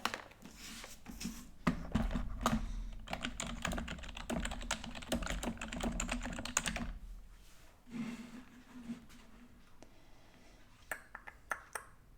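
Rapid clattering keystrokes on a computer keyboard fill most of the stretch, then pause and resume in a few scattered taps, close and moderately loud, during a live sewing and pattern-drafting session.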